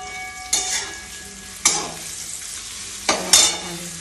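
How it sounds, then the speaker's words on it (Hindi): Onion and capsicum fry in a pan at home, a steady sizzle under three separate scraping stirs of a spatula, each a sharp close scrape that fades back into the frying. "ऑनियन और शिमला मिर्ची भून रही हूँ"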